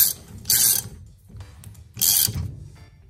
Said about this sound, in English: I'm going to put a ratchet on it and just tighten it up for now.